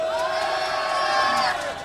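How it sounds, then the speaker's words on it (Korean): A crowd cheers and whoops loudly for a couple of seconds, with sustained shouting voices that fade slightly at the end. "우리 박재호 사무장님께큰 환호의 박수 한번 보내주십시오"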